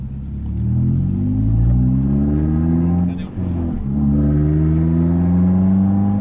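A Renault Sandero RS with a 150 hp engine accelerates hard, its revs climbing in rising sweeps, dropping briefly at a gear change, then climbing again, loud and close from inside the car.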